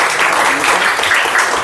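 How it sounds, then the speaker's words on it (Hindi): Students in a classroom clapping together in a short, dense burst, loud and close, with no talk over it. "तालियां एक बार बजाइए।"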